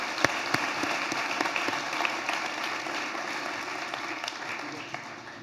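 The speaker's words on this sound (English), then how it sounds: "So let's please pause and give them a big round of applause and a big thank you." Steady round of applause from an audience at a city State of the City address, dense clapping sustained throughout with a few sharper individual claps standing out.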